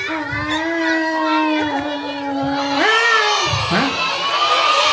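A voice imitates fighting cats with long, rising and falling yowls and a sharp screech near the end, sustained and close.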